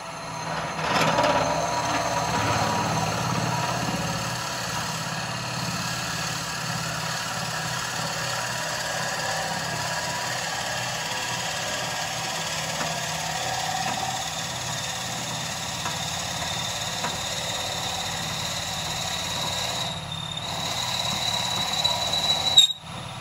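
A wood lathe turning a sycamore vase at over 1,000 RPM hums steadily with a thin, continuous high squeal from the drill bit, droning on evenly throughout with no talking.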